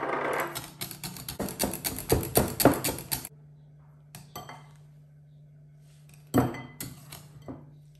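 A spoon clinks and scrapes against a bowl while chocolate ganache, made of chocolate and cream, is stirred. Bursts of clatter for about three seconds, a quiet pause, then another short round of clinks, fairly close and with no talking.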